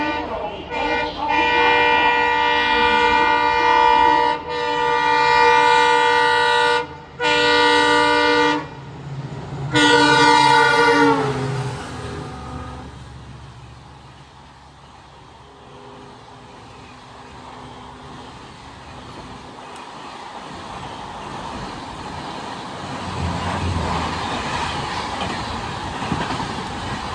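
Fast train running through Bhilad railway station, opening with loud sustained horn blasts broken by short gaps, then a rushing roar of wagons passing close before fading into a quieter rumble and rising again.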